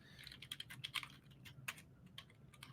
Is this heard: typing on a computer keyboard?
yes